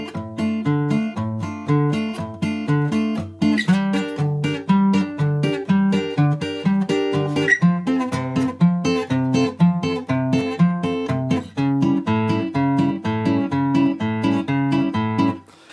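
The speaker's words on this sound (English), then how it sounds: "My guitar is in standard tuning." A guitar in standard tuning plays a steady, rhythmic pattern of picked notes and chords from a song, close and fairly loud, continuing without pause and with no voices.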